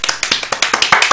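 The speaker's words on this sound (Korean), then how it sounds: "박수." Hands clap about nine times in quick succession, crisp and close, with an even rhythm, and no one speaks.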